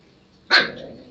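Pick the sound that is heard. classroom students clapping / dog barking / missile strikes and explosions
dog barking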